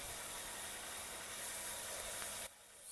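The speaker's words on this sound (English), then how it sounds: "it's so noisy, guys, because the compressor is on" A running compressor fills the space with a loud, steady broadband hiss that cuts off abruptly near the end and leaves a quieter background.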